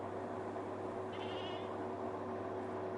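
A single short bleat from a goat in Jurassic World Evolution 2, faint and mid-distance, rising briefly over a steady low ambient hum and background noise.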